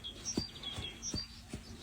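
Early-morning birdsong at a military resting spot near the front, with several birds trilling and chirping close by and a few soft thuds under the calls.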